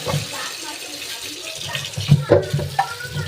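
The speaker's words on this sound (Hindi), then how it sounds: "चलो अब हम जा रहे हैं गाजरों को धोने, ठंडे ठंडे पानी से।" Carrots are washed in a large pot of cold water, giving continuous splashing and sloshing with irregular louder swishes toward the end, close and steady.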